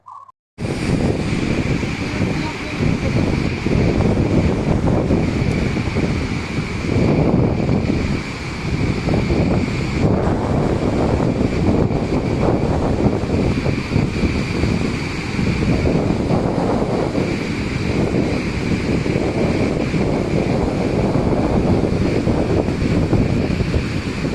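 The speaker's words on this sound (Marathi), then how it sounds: "सध्या पावसाळ्याचे दिवस असल्याने व परिसरात जोरदार पर्जन्यवृष्टी झाल्याने धबधबा ओसंडून वाहत आहे" Sahastrakund waterfall, overflowing after heavy monsoon rain, gives off a loud, steady roar of rushing water. The sound is dense and unbroken throughout, with no voices.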